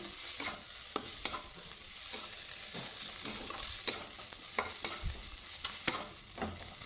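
Mashed boiled potato stirred into a spiced vegetarian filling in a hot pan: a steady bright sizzle under repeated soft scraping strokes of a spoon, close and without voices.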